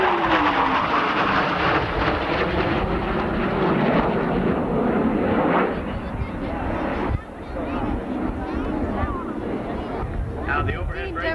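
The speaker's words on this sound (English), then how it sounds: "The Harrier will start into its full routine." An AV-8B Harrier jet in a 1988 flying display at Newburgh, New York, roars as a loud, steady broadband jet drone that shifts partway through, with an announcer talking over it on a public address.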